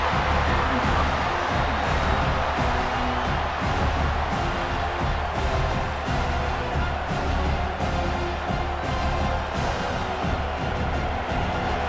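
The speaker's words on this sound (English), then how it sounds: "It's early, but this crowd is fired up. Listen to this noise here." A stadium crowd in College Football 26 during an Oklahoma vs Tennessee game sends up a steady, loud, unbroken roar that stays at the same level throughout.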